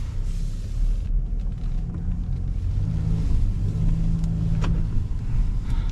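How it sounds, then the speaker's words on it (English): A 2024 Ford Escape ST Line on the move, its engine and road noise forming a steady low rumble throughout, with a few faint higher whooshes over the top and no talking. "let us take this car on a ride"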